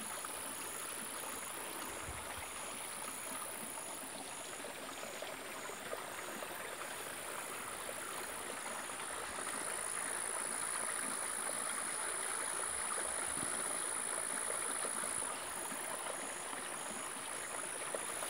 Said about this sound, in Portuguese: E aí está um pouco aqui da água.